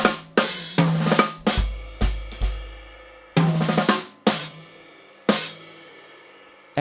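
A jazz drum kit plays sharp, loud hits with cymbal crashes, a cluster of strokes landing in an uneven pattern with decaying ring between them, heard close and alone.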